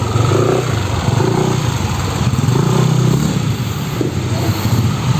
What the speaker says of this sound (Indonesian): suaranya mesinnya itu kasar